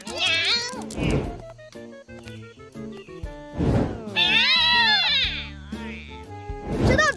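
Cartoon cats meow repeatedly in high, stretched, whiny calls, some sounding almost like a crying baby, loud and close over a music backing, with a few short thunks between the cries.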